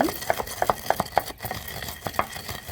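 Roasted ingredients for a traditional Andhra mango pickle are pounded in a stone mortar, giving a series of sharp, close, irregular knocks and grinding scrapes.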